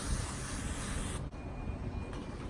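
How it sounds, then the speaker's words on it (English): Water sprayed over potting mix for spinach, Swiss chard and beet root microgreen seeds, a loud steady hiss that cuts off briefly and then resumes. "now I want to spray it with some water to moisten my potting mix"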